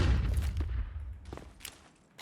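A flashbang grenade detonates in CS2 with a loud, close burst that decays into a hissing, ringing tail, with a few faint clicks and footstep-like taps after.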